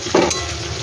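Gravy sizzling and frying in oil in a pan on a low gas flame, a steady close hiss with a brief louder stir-like splash near the start.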